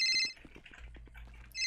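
A phone rings during a video game roleplay, with an electronic trilling ringtone burst at the start and again at the end, and a low hum with soft clicks in the gap between, and no talking.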